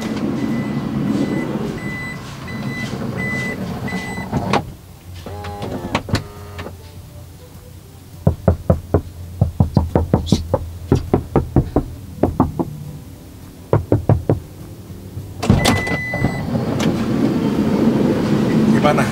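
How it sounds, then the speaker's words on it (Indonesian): Clusters of dull knocks tap on a Toyota Voxy's (2023) ceiling fitted with sound-damping material, muffled and thudding, with someone talking and background hum before and after. "kalian dengerin aja suara bagian plafon setelah dipasangin peredam"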